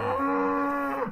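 A white-faced cow moos loudly, one long drawn-out call close by, rising then fading at the end, with no talk over it.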